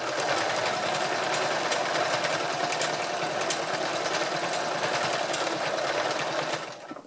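A sewing machine stitches fabric in a continuous fast, even whir, loud and close, running alone for the whole stretch before easing off at the very end.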